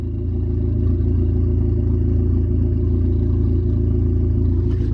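A Mitsubishi Eclipse 2G engine idles by itself after tuning, a steady close low rumble with a faint whine, holding an even level throughout with no voices.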